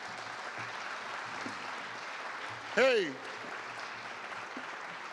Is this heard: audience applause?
yes